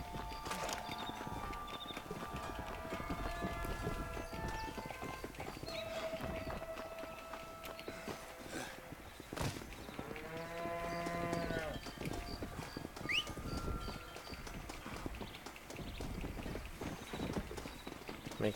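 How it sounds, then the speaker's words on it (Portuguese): Horse hooves clopping in Red Dead Redemption on Xbox One, a steady rhythm running under game music, cattle lowing and background noise throughout, with a brief voice in the middle. "Vem, cavalinho."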